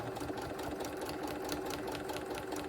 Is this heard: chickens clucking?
no